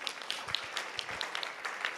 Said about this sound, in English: Let us clap for these guys.